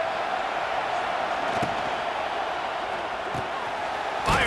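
A stadium crowd roars in a college football video game, a broad continuous wash of cheering at steady level, with a few faint thumps and a brief louder swell near the end.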